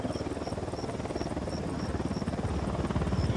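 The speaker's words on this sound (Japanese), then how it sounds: "ユニダットのヘリが来る。" A Unidad helicopter approaches in the video game Ghost Recon Wildlands: a steady, rapid rotor thump with a droning hum, loud and continuous, growing slightly stronger, with no talking.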